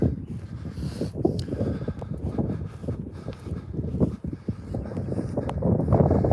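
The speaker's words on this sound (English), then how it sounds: "It's quite windy up here though." Strong wind on East Hill in Hastings buffets the microphone continuously with low rumbling gusts, a steady roar with no talking.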